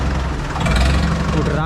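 A 575 tractor fitted with a mesh-type silencer runs loud and close, its engine giving a rough, throbbing drone that builds slightly toward the middle.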